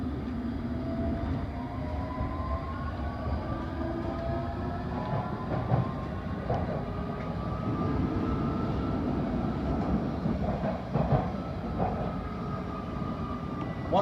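London Underground Metropolitan line train running alongside the Circle and Hammersmith and City lines toward Baker Street, a steady rumbling drone with rising and falling motor tones and occasional clattering rail joints throughout.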